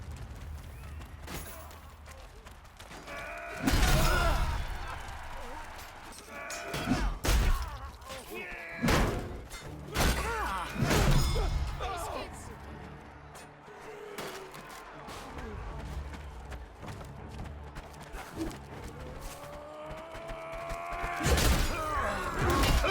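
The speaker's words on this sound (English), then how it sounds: "your swings and hits have great sound and impact effects" Melee weapons swing and strike in the medieval combat game Chivalry 2, a series of heavy thuds, slams and crashing impacts at irregular intervals, some sharp and loud, others softer, amid battle noise and occasional voices.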